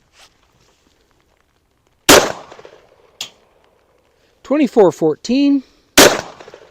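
Sharp gunshots from an LC carbine firing 5.7x28 reloads with CK 32 gr bullets: three loud, widely spaced cracks, with a man reading out a number between them.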